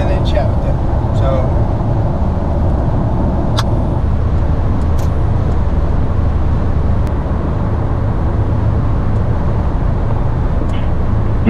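A car drives along a road in the Southwest Oklahoma City and Mustang area, making a steady loud rumble of engine and road noise throughout, with a few faint clicks on top.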